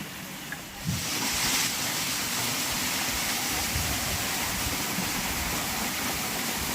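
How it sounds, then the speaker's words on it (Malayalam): The lower section of a waterfall roars in a loud, unbroken wash of rushing water, steady and fairly close throughout. "ആ കണ്ടോ ആ താഴ്ഭാഗത്ത് വരുന്ന വെള്ളച്ചാട്ടമാണ്"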